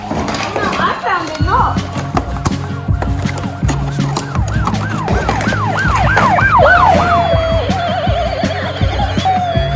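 A police car siren wails in repeated rising and falling sweeps, loud and close, with busy street noise and other tones mixed in beneath it.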